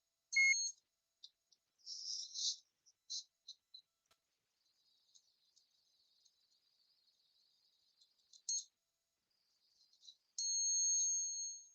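Short electronic beeps from a multimeter on continuity mode while testing the ignition coil of a Triumph motorcycle, with a few brief tones early on and a steady, fairly loud sustained beep near the end.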